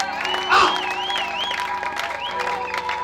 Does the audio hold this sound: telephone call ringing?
no